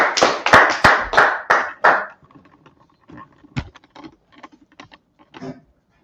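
A group claps in a few loud, rhythmic bursts at a gathering in Harlem, New York, then the clapping breaks off into scattered quieter taps and shuffles.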